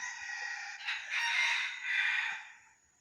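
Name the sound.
round head rooster crowing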